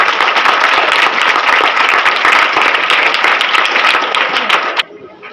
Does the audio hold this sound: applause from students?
yes